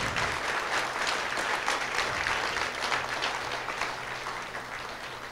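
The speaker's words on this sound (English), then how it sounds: "If you agree with me, give a big round of applause." An audience breaks into sustained applause, a dense even patter of many hands clapping that holds for several seconds before easing slightly, with no voices over it.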